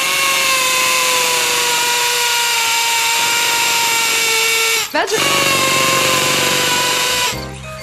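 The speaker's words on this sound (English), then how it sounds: "Bosch drills and power tools, helping men around the house since 1932." A Bosch power drill runs loud and close with a steady high whine, briefly cuts out and restarts midway, then winds down at the end.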